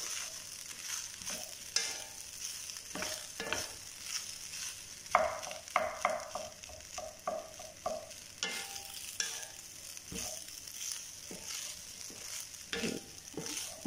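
Leftover rice being stir-fried into fried rice, with repeated scraping and stirring strokes of a utensil in a pan over a steady low sizzle, close and moderately loud.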